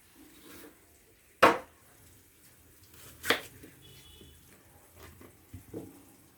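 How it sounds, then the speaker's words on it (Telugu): Peeled elephant foot yam pieces dropping into buttermilk water in a kitchen, two distinct splashy plops a couple of seconds apart followed by softer small clinks and drips, close by and without speech. "ఒకసారి ఇలా మజ్జిగ నీళ్ళల్లో వేసుకుని"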